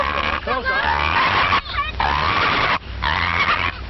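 Farm ducks at a camp, in an old 1942 film recording, give several loud, nasal, honking quacks in quick bursts with short pauses between them.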